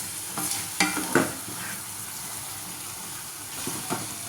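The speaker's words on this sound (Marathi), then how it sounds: "मस्त एकदम छान फोडणी बसली." Spice tempering sizzles and crackles in hot oil for a pea curry, a loud hissing crackle near the start that settles into a steadier sizzle with a few pops.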